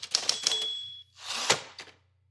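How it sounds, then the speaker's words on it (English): A typewriter typing sound effect: quick clacking keystrokes, a ringing ding, then a carriage sweep and a couple more clacks, close and fairly loud. "That's my sound effect for typewriter, you're typing something in."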